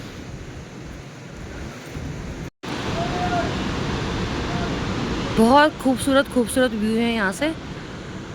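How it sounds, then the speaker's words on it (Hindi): The Alaknanda river flows far below snowy mountains with a constant broad roar, heard alone at first. A brief cut interrupts it, then someone speaks over the steady rush near the end. "नीचे से बह रही है ये अलकनंदा नदी"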